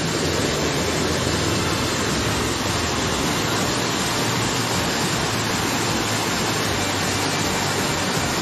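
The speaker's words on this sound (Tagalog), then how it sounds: "bumaksak ang isang malakas na ulan" Heavy rain pours in a dense, steady roar that stays unbroken throughout.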